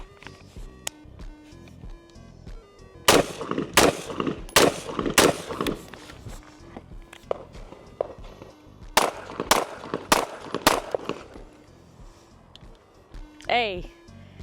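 Rifle-pistol gunfire in a video game: rapid bursts of sharp shots in two clusters, loud and close, with someone talking in between and a rising synthetic whine near the end.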